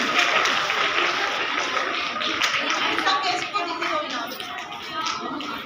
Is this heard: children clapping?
yes